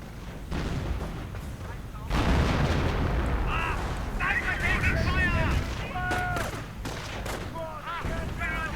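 A World War II real-time strategy game battle fills the scene with dense, loud artillery booms and bursts of gunfire. Whistling shells sound over the rumble, and a commentator talks during the fighting.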